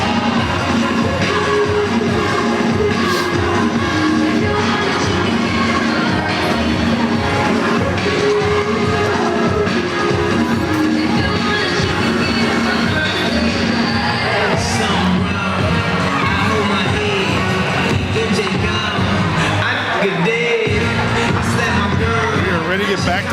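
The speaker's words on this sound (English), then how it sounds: "Let's just listen to the sounds going on here in Eagle Gym as both cheer squads are involved" Basketball crowd noise fills Eagle Gym during a high school boys' game, with fans and both cheer squads shouting and cheering over music, a dense, continuous roar throughout with a brief dip near the end.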